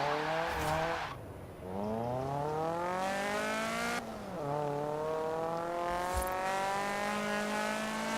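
An engine in Forza Horizon 4 revs hard through several climbing gears, the pitch sweeping up and the tone hardening as VTEC engages, with a brief dip at each shift, loud and close throughout with no talk.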